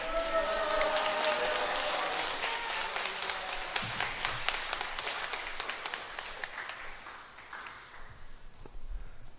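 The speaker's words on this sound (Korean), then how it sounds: "박수로 선교사님 모시도록 하겠습니다" A church congregation in Korea applauding to welcome a visiting missionary at a Sunday service, a dense wash of clapping from many hands that gradually thins into scattered claps and fades.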